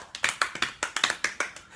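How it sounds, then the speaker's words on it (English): A small audience at a theme-park panel discussion claps in a sparse, uneven round, about a dozen distinct sharp hand claps spaced out over a couple of seconds, fairly close and unaccompanied by talk. "give him a round of applause"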